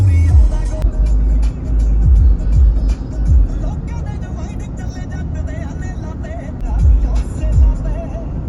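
Car driving along a highway and overtaking slower vehicles, a steady low road and engine rumble with occasional passing swells, heard beneath continuous talking.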